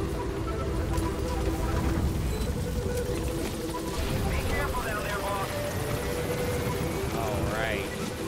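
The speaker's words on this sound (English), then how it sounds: "Lovely helicopter." A helicopter in the video game Metal Gear Solid V: The Phantom Pain fills the scene with a steady, low, continuous chopping rotor hum, while faint tones and chirps sweep over it.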